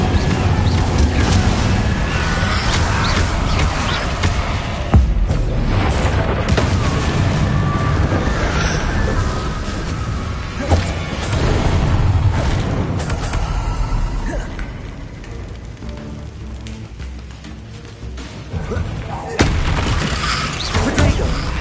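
Incendio fire spell blasts in a Harry Potter video game, loud rushing bursts and booms layered over a dense, continuous game soundscape.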